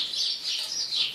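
Birds chirp continuously outdoors in a quick, bright warbling run, moderately loud and unbroken by talk.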